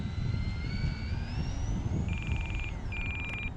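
Twin engines of a Beechcraft D-18 during a half-flap takeoff, a steady loud propeller drone heard from inside the cockpit, with a rising whine and brief electronic warning beeps near the end.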